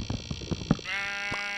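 Sheep bleating in the video game Minecraft, a few short bleats followed by a longer wavering bleat, close and clear over quiet background.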